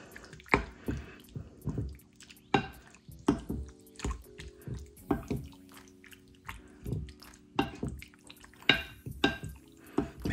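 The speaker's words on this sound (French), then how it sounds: "On mélange." Chicken gizzards being mixed in a bowl, with wet squelches and irregular clinks of a utensil against the dish, close and intermittent with no talk.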